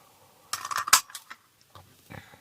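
A few short, crisp snips and metallic clicks, close by, clipping the end off a paper banner, with a sharp clack in the middle and quieter taps afterward.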